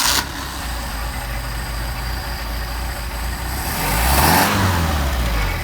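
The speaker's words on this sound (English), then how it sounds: "Now we hot start." A Mercedes-Benz 190SL engine with Solex carburetors hot-starts and runs at a steady, loud idle, then swells into a short rev near the end before settling back.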